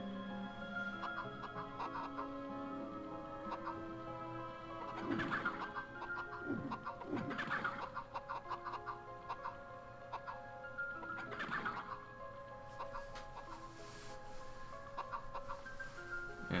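Chickens cluck and coo in the MediEvil video game, a steady layer of fowl calls with a few louder bursts over a constant background hum.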